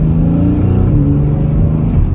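A Mercedes S-Class car accelerates hard from a start, its engine roaring loud and steady close by, with a rising, rumbling drone throughout.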